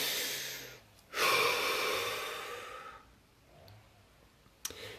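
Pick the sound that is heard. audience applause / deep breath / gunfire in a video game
deep breath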